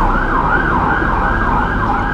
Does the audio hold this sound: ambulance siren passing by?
yes